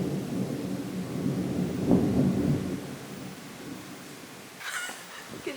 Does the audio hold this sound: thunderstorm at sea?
yes